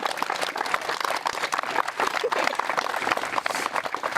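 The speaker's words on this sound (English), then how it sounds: "Can we get a round of applause for them?" Wedding guests applaud the couple in a steady, dense burst of clapping that fills the room, with voices mixed into the crowd.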